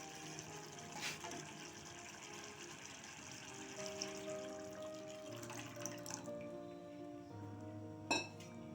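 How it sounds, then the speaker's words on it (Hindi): Water from a bowl poured into simmering cream for a malai kofta gravy, a soft steady pour and bubbling under faint kitchen clinks, quiet and close, ending with a brief clink. "अब हम इसमें थोड़ा सा पानी ऐड करेंगे।"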